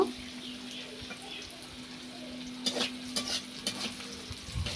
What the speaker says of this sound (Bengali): পেঁয়াজগুলোকে সুন্দরভাবে আমি একটু ভাজি করে নিব, কাঁচা গন্ধটা চলে যাওয়ার জন্য।